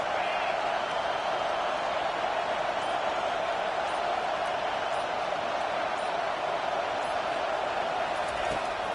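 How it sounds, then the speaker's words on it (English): Steady, dense roar of a packed stadium crowd in an NCAA college football video game, loud and continuous throughout with no pauses, swelling slightly but never breaking. "this crowd is making it miserable on this offense"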